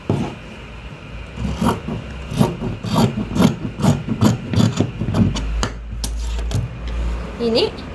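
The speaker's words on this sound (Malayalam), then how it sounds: "ഇനി ഇതിനെ നമുക്ക് കട്ട് ചെയ്തെടുക്കാം." Scissors cutting cloth for a small child's pants, a steady series of rhythmic snipping strokes, close and moderately loud, ending in a few softer handling sounds.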